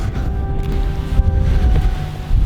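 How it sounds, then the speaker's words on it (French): Cold, icy wind blows outdoors on the way to castle ruins, a steady, loud rumbling buffet of gusts across the microphone with no voices. "le vent il est glacial"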